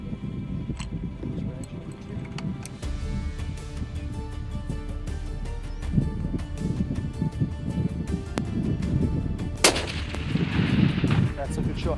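Rifle fire on an African plains game hunt, sharp loud cracks repeating over steady outdoor rumble, with one especially strong blast near the end and a faint wash of wind and movement between shots.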